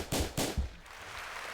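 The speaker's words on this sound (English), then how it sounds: "Gunshots." Three quick gunshot sound effects used within a song punch out in rapid succession, followed by a fading reverberant tail.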